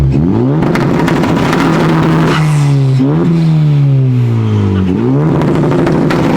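A Honda Civic Type R engine tuned with antilag revs hard and close, its loud, rough note climbing and dropping in pitch through several quick pulls.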